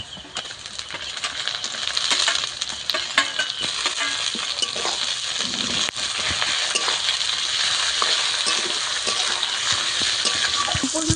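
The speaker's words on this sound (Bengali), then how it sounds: "মশলা আমি এইভাবে কিছুক্ষণ ভেজে নেবো" Garlic paste, green chili and tomato sizzle and fry in hot oil for a chicken dish, with a spoon steadily stirring and scraping through the mixture, a continuous close, fairly loud crackle.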